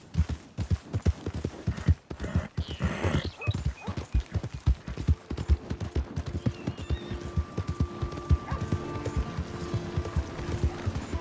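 Steady clip-clopping horse hooves in the video game Red Dead Redemption 2 trot along, fairly close and rhythmic, with a brief whinny-like sound early on and faint ambient tones in the background.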